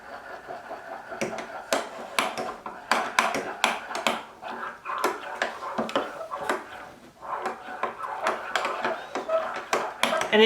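A spoon stirring hot chocolate in a mug, giving a steady run of bright clinking taps against the ceramic, fairly close and loud throughout.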